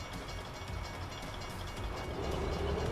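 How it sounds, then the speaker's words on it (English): A train in the American Truck Simulator driving game gives a low, steady rumble with faint rolling clatter, heard at a moderate distance under other game ambience. "What, did the train stop?"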